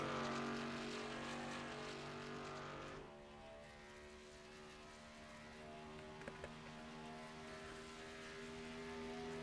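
A race truck engine in a racing video game at Auto Club Speedway drones steadily, louder at first and then easing into a lower, sustained hum as it passes, with no talk over it.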